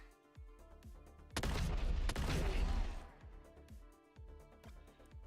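A dwarf cannon fires in the video game The Last Spell, one loud blast followed by a roaring rumble lasting over a second, set among repeated lighter game clicks and impacts.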